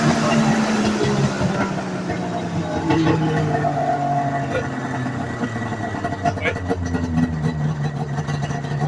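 An old, greasy Polaris triple-cylinder snowmobile engine that sat for years idles steadily with a low, continuous mechanical drone and faint rattles, close by and without pauses.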